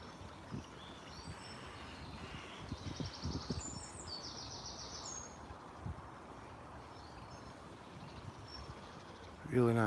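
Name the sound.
birds singing in the morning woods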